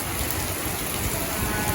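Rainy-season thunderstorm rain in Pattaya pours down in a continuous, loud wash of drops striking nearby surfaces, with no voices.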